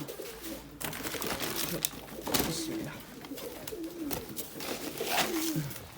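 Pigeons coo repeatedly at close range on a balcony, low warbling calls recurring through a busy outdoor scene, with a brief spoken word near the start.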